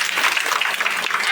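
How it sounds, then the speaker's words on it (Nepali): An audience at a women's church fellowship gathering gives a burst of enthusiastic applause, dense and close, with a voice briefly audible through the clapping. "फेरि सम्मानको जोरदार ताली"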